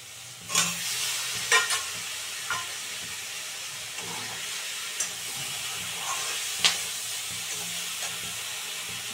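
Eggplant frying in a pan with salt and turmeric, a steady soft sizzle broken by several sharp stirring scrapes and spatters, close and fairly quiet with no talking.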